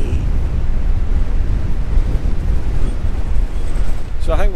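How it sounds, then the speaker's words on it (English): Strong wind on a Scottish hillside in South Ayrshire buffets the microphone with loud, gusty low rumbling throughout, and a voice briefly breaks in at the very end. "Oh, it's windy."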